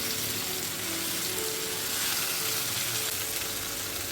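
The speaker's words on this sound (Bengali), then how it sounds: "আমলকিটাকে খুব একটু ভালোভাবে তেলের সঙ্গে মিশিয়ে নিচ্ছি।" Whole amla (Indian gooseberries) fry in hot oil while being stirred, giving a dense, even sizzle that holds steady and fairly loud throughout, with no talking.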